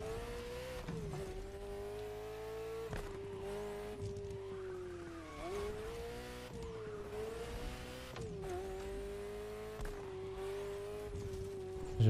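Race cars in The Crew Motorfest, an engine whining steadily with repeated swooping pitch shifts as gears change, with tire squeal and skidding, loud and continuous without talk.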